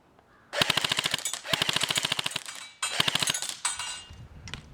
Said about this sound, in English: we're going to do a full auto burst.